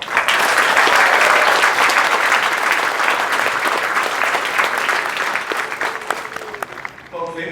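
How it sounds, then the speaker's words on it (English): Loud, sustained crowd applause at a US Air Force Basic Military Training graduation ceremony, dense clapping that holds strong for several seconds before thinning and tapering at the end. "Huge round of applause for our MTIs."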